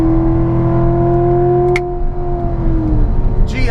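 Supercharged C7 Corvette Z51 with a 600 hp Magnuson supercharger, heard from inside under steady full-throttle acceleration, a loud sustained engine drone with a rising whine that dips briefly as a gear changes, then pulls on.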